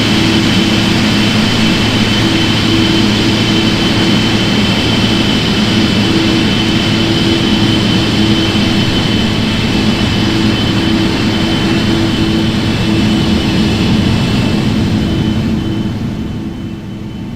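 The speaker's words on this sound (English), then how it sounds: "I've left the engines running, which is highly unrealistic because we're at the gate, but I wanted you to listen to the sound" Jet engines idle steadily at the gate in a flight simulator game, a loud continuous whine and rumble with tonal hum that holds for most of the span, then thins slightly near the end as the listening position shifts.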